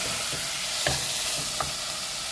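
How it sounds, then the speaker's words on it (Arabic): Chopped tomatoes stirred in a frying pan, a continuous hissing sizzle with a few soft scraping strokes of the spoon spaced through it, close and with no one speaking. "نقلب مع بعض، نعمل كده مع بعض فيها"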